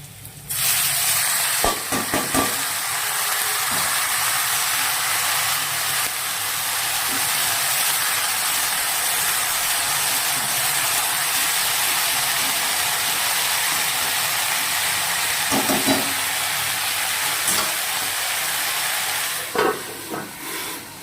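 Greens (saag) fry in a pan after onion, green chili and garlic, a steady hiss of sizzling oil with occasional clattering stirs at the start and end.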